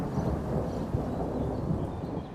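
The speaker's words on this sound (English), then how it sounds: "With your luck, we'll have a thunderstorm." Steady deep rumble of thunder during a thunderstorm, a dense, loud, continuous low roll with faint rain hiss above it.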